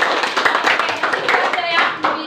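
A class of students claps hands together in a classroom, a short burst of many fairly close claps that fades slightly toward the end, with a voice briefly heard.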